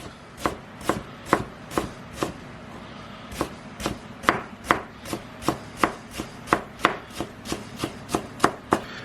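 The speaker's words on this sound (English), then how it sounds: "gonna need 2 tablespoons of finely chopped red onion" A knife finely chops red onion on a cutting board, about twenty crisp, evenly spaced strikes close by, with no voices.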